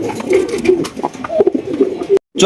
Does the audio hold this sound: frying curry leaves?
no